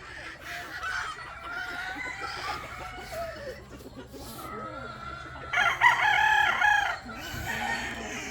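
Laying breeder hens and chickens on a farm cluck and murmur close by, with one louder crowing call rising midway above the low background hum.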